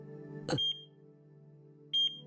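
Two short electronic beeps from a heart monitor machine sound about a second and a half apart over a steady low synthesized hum, clear and alone, with a brief soft thump just before the first beep, in the Chaos;Child visual novel game.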